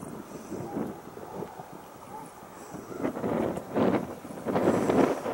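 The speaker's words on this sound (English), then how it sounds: "It's very windy out here." Gusty wind roars and buffets the microphone on a frozen Mirror Lake in winter, rising in strong surges toward the end, with a low rumbling undertone and no clear voices.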